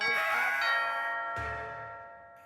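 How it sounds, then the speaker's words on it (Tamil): A doorbell rings with a two-tone chime, a bright first note followed by a second, each ringing out and fading away in a quiet room. "Calling bell."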